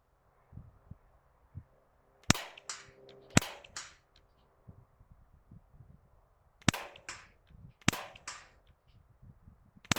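Four sharp cracks from a Steyr Hunting 5 .177 semi-automatic air rifle fired at a 50-meter target, arriving as two pairs, each crack followed by a brief rattling tail over a quiet outdoor background.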